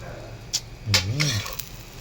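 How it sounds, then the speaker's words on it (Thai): Thai-style omelette eggs frying in hot oil, with brief bright sizzles and a clink of a pan or utensil, short and close with a faint voice beneath. "ทอดไข่เจียวหอมครับ"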